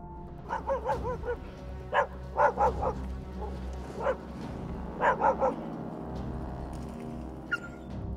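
Aggressive stray dogs in a city street bark in several short bursts of rapid, sharp barks, fairly close, with quieter pauses and low background noise between the volleys.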